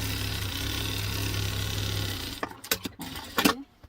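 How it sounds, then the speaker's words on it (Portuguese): Sewing machine running steadily while stitching a fabric notebook cover, a continuous close whir for about two seconds that then stops, followed by a few sharp handling clicks and taps. "E agora eu vou ensinar para vocês aonde que a gente vai costurar."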